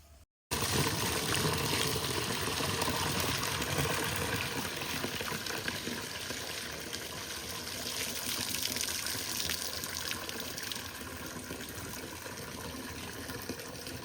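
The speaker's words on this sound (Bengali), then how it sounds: "শাকটা খুব সুন্দর করে ধুয়ে নিলাম" Freshly picked susuni greens are washed under running water in a kitchen, with a steady, fairly quiet gush and splash that continues without pause.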